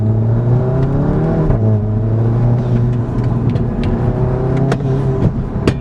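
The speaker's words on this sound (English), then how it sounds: "I was not ready for the turbo noises to be this loud." A car fitted with a RacingLine intake runs close by, its engine tone rising and falling through revs with a whirring turbo spool over the top and sharp whooshes and chirps as boost releases, loud and without speech.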